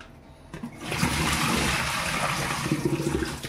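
Dried bitter gourd slices, soaked in hot water, are rubbed and washed in water in a kitchen: a steady, fairly loud rush of running, splashing water starts after a brief quiet moment and continues throughout, with no talking.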